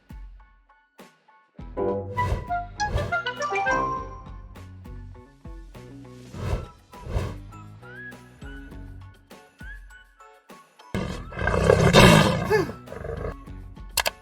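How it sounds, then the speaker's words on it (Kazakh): A lion's roar for a children's animal-sounds cartoon, several loud rumbling roar bursts rising and falling over about fourteen seconds, with whistle-like tones and light jingles mixed in alongside. "Бұл арыстан."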